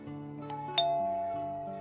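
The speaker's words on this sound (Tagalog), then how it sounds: "Pindutin ko nga ulit itong doorbell." A two-tone doorbell chime rings once, ding then dong, clear and close, with the second note ringing out and fading slowly.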